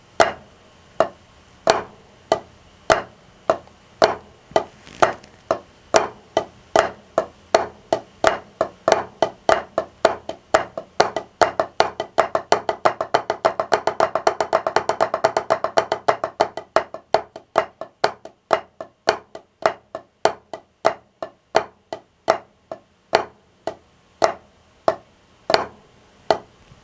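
Sharp drum strokes playing an open-closed-open rudiment, starting slow, speeding into a dense roll, then slowing back to spaced single hits.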